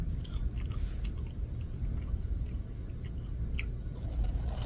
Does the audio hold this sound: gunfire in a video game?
no